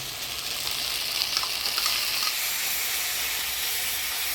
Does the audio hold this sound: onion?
yes